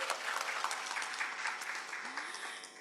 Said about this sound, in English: may we get a round of applause for P.S.